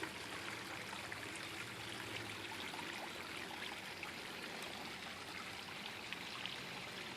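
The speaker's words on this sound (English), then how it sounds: "we have a little waterfall and stream that also helps to aerate the water" A small garden waterfall and stream aerating a natural swimming pool runs in a steady, even babble and splash, close by and continuous with no voices.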